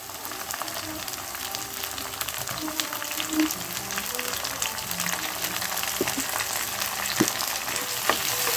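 Tomato and garlic sautéing with browned onions in a pan for a potato and brinjal kara kuzhambu, a steady close sizzle and fry with occasional stirring clinks and scrapes, no talk.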